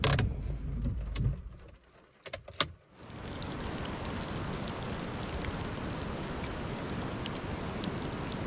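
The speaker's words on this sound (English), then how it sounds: "it's still raining quite a bit" Rain in the Julian Alps, a steady close patter of drops on a surface after a few brief clicks and a quiet pause, continuing evenly to the end.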